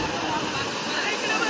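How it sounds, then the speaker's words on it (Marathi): A waterfall at a village swimming and picnic spot in Roha, Raigad, gives off a steady, broadband rushing roar. It is close and constant, with faint voices mixed in. "असा आहे धबधबा"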